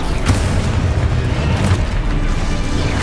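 A Confringo spell blast in the Hogwarts Legacy video game: a loud, close, rumbling explosion with a deep boom that holds steady for about three seconds without fading.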